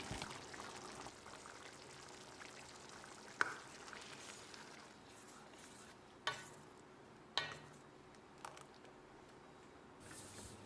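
Ground coconut paste is poured into a boiling tomato mixture for a South Indian tiffin dish, a soft, quiet, steady pouring with faint bubbling and a few small clinks of a utensil.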